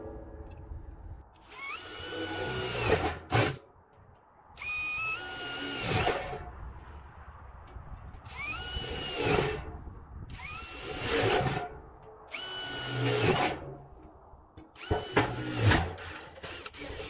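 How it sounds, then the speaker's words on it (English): A power drill bores drainage holes through the bottom of galvanized metal tubs, six or seven rising whining bursts each a second or two long, separated by brief pauses and clanks of the metal. "flip them over and drill drainage holes in the bottom of these"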